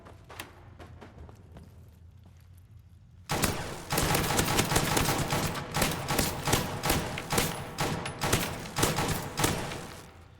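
Rapid bursts of gunfire hammer away at turrets in Fallout 4 with the NOMAD modlist. Quiet ambience gives way to a sudden, sustained volley of loud shots with irregular thumps that keep going to the end.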